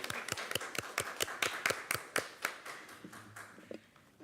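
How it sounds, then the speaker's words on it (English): A small group claps at a USD253 school board meeting, a quick run of sharp, fairly regular handclaps close by that thins out and fades after a few seconds. "They get an applause."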